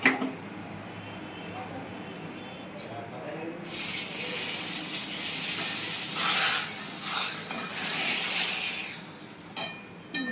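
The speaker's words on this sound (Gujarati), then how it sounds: "આ ફરતી વઘાર કરી લેશું" Hot oil tempering (vaghar) poured over chole chana with red chili, bursting into a loud sizzling hiss that swells and fades in several waves after a quieter stretch with faint kitchen noise.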